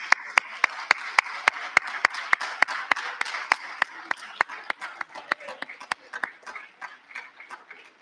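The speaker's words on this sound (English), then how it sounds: "Let's give them a round of applause." A small crowd of schoolchildren claps at an assembly, sharp individual hand claps ringing out over a softer spread of clapping that thins and becomes more uneven toward the end.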